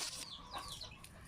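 A chicken in Oriental Mindoro, Philippines clucks a few times in short, quick bursts, fairly close, with light background noise.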